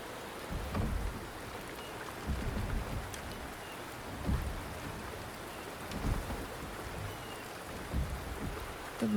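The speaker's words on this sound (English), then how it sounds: "The rain is subsiding, and the sky will soon clear." Steady rainfall in the video game Wuthering Waves on a mountain, a continuous wash of drops on surfaces with occasional low rumbles, moderately loud and with no voices.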